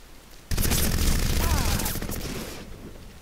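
Gunfire from the video game Crysis during infantry combat: a dense, loud burst of rapid shots filling about two seconds, then fading out.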